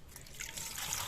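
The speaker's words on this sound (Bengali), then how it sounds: "জল দিয়ে ভালো করে 3-4 বার ধুয়ে নেব।" Cauliflower and potatoes are rinsed in water for a curry, a short, soft trickling and splashing close by, steady and brief.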